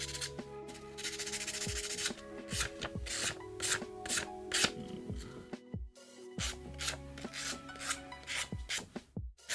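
Cured kintsugi resin edges are worked with 400-grit sandpaper, giving a series of short, close, raspy rubbing strokes in an uneven rhythm, quiet and with no talking.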